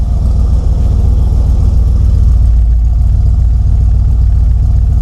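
A 1976 Ford F100 shortwide pickup with dual exhaust exiting ahead of the wheels and Dynamax Super turbos idles loudly and steadily, a deep continuous rumble with a slight lope and no breaks.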